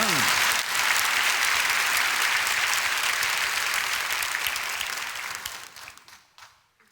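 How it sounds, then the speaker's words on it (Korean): Congregation applause at a Korean church prayer service: a broad, continuous wash of clapping from a large crowd, holding steady for several seconds before thinning and fading out. "이때 박수를 쳐야 돼 사실은"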